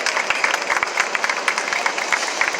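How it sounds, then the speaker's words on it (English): Dense, steady applause from a large audience honoring doctors, nurses and health personnel in New York, a continuous crackling wash of many hands clapping at once, loud and sustained throughout. "I would like you to give a round of applause to each one of them."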